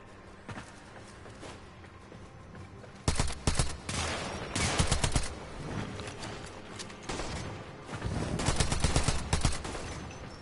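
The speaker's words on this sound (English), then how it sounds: "I'm just using a pistol." Pistol fire in the Warframe shooter game: bursts of sharp, rapid shots in several loud clusters, with quieter gaps and game noise between them.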